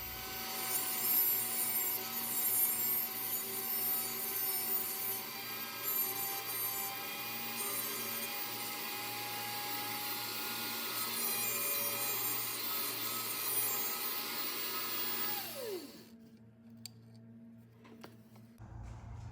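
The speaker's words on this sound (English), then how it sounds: "Okay, so I've ground the head of the rivet." A rotary grinder works down the head of a rivet on a Remington 870 shotgun ejector, a steady, loud whine of abrasive on metal that runs about sixteen seconds, then dies away and leaves a quiet room.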